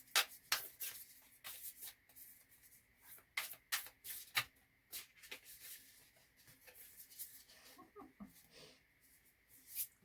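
Tarot cards being shuffled and drawn by hand, a series of quick crisp riffles and soft slaps coming in irregular bursts, close and fairly quiet with no voices.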